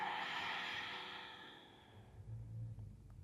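A long, soft breath is pushed out during an arch-and-tuck deep core exercise. The quiet airy exhale fades away over about two seconds, followed by a low, faint breathy murmur.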